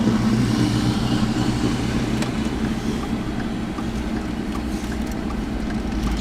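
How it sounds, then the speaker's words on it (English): A white Ford Mustang Mach 1 idles with a steady, low rumbling engine drone throughout, fairly loud and constant at an outdoor downtown cruise-in. "I hear something running. That little white Mustang. Yep, that little Mach 1."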